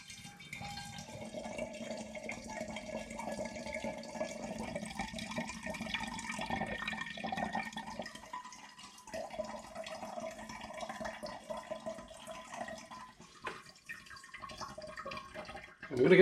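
Home-brewed porter beer trickles through a siphon tube into a glass, a close, continuous liquid pour with gurgles and drips, fairly loud, ending with a brief louder splash and no talking.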